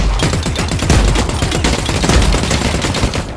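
Rapid, dense shotgun blasts in The Cycle Frontier video game, loud and close, hammering out in quick succession with no pause across the stretch.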